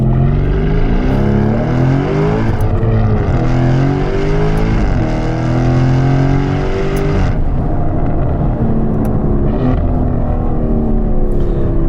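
A Novitec-tuned Lamborghini Urus SE V8 SUV revs loudly and close up, its engine note rising and falling through several pulls and then dropping back near the end.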